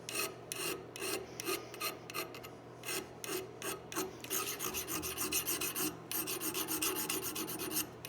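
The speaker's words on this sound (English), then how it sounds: "But we'll probably just file it on this one." A hand file rasps at a lock mortise cut into a wooden gun stock, with repeated close strokes, slow and spaced at first, then quicker and denser.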